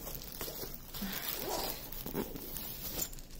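A soft, non-crinkly plastic bag is handled while a diamond painting kit is unboxed, giving a steady close rustle with brief scuffs and slides for a few seconds and no talk.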